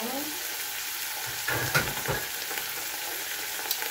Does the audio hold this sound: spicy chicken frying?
yes